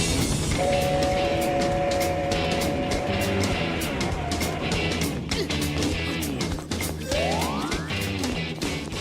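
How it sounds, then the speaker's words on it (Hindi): Cartoon train running along a track, a loud continuous rumble with rhythmic clatter, a sustained whistle-like tone early on and a rising sweep near the end, with no talk. "ड्राइवर जल्दी ट्रेन को रोको, आगे ट्रैक का पुल टूटा हुआ है"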